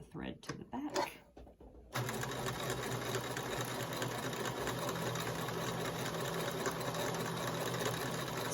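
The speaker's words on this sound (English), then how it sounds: "So I'm just going to be sewing along this seam" A domestic sewing machine runs steadily while chain piecing a seam on fabric pieces for a welder's cap. A short stretch of handling noise comes first, then a continuous fast mechanical whir that holds even to the end.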